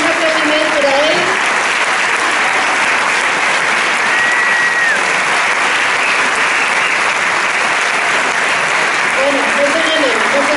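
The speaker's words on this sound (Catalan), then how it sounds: "un aplaudiment per a ell." Loud, sustained applause from a crowd at a choir's 20th anniversary celebration: a dense, even roar of clapping throughout, with a few voices calling out faintly beneath it.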